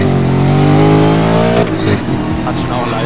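A car engine in Need for Speed Most Wanted revs loud and steady, a strong rising harmonic drone that holds for over a second and a half, then breaks into a rougher, choppier roar with shifting bursts.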